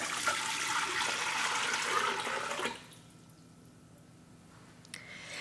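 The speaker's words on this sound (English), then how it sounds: "So I'm going to add in 8 cups of just plain tap water." Eight cups of plain tap water are poured into a Ninja Foodi pressure cooker, a steady rushing splash that runs for under three seconds before stopping abruptly, leaving a quiet room with a faint click near the end.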